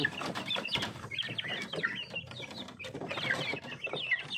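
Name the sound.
Bangkok chickens clucking before feeding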